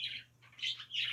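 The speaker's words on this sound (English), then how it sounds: "And Frida, wow, those birds are excited for Frida." Small birds chirp in rapid bursts, three bright twittering calls close together, moderately loud over a low steady hum.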